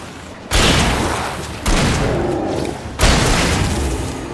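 Gunshots in Alan Wake, three heavy booming blasts spaced more than a second apart, each followed by a long sustained rumbling tail, loud and close.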